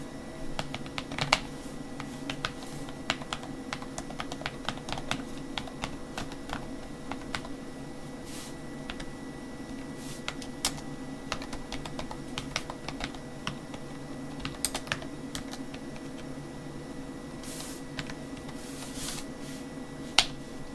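Keys clatter on a GRiD Model 2260 laptop keyboard in a quick, irregular run of sharp clicks spread over about twenty seconds, close and fairly quiet over a low steady hum, with no talking.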